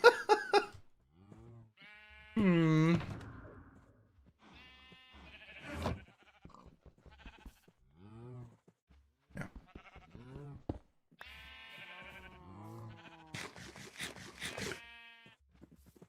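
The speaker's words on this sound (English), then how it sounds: "Looks like our sheep population's been culled a bit." Minecraft sheep bleat several times in short, wavering cries spread across the clip, some loud and close, mixed with game clicks and a man murmuring briefly.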